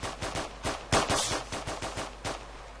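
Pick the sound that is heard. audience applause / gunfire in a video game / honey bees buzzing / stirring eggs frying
gunfire in a video game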